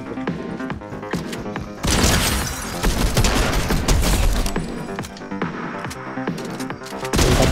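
Gunfire in the video game Fortnite, no-build squads mode, with repeated sharp shots and rapid bursts sounding loud and close, breaking into dense volleys.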